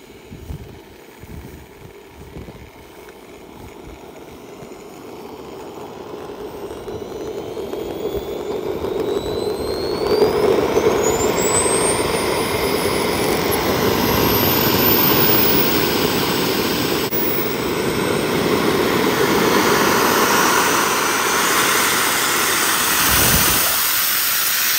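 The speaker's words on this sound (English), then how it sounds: "See, the turbine is now ready to start. This is the first start off here." A small RC model jet turbine, in an E-Flite F-16 80mm, spools up on first start: a whine climbs steadily in pitch while a broad rushing roar builds and holds loud and close, ending in a low rumble.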